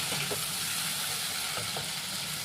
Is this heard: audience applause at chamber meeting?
no